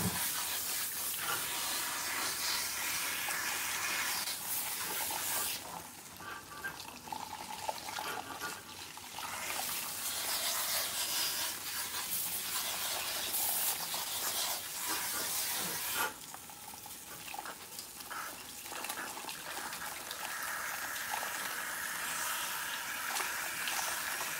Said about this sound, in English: what I'm doing is rinsing out the pre-treatment